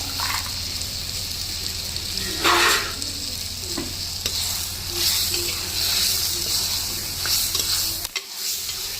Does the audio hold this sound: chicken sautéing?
yes